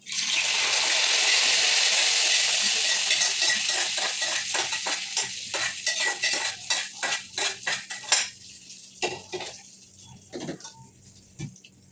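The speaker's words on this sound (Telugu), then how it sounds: "సో స్టవ్ ఆఫ్ చేసి ఇప్పుడు ఈ పోపుని నేను యాడ్ చేస్తాను." Hot spice tempering hisses and crackles loudly as it is poured into yogurt for dahi vada, the sizzle fading into scattered pops and clinks over several seconds.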